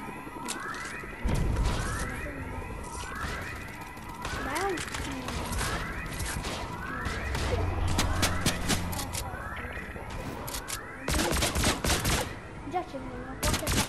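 Rapid bursts of gunfire from a Fortnite match crack out repeatedly, some in dense volleys and others as single shots, over a steady game backdrop with intermittent synthetic tones.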